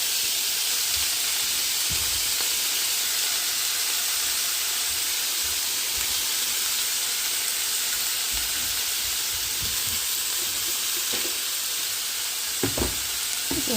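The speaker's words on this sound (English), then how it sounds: "Okay, so our skillet is heated up. We're going to dump the potatoes in." Drained potatoes, still holding a little liquid, are dumped into a heated skillet and set off a loud, continuous sizzle and hiss, with a few clatters and scrapes near the end and no talking.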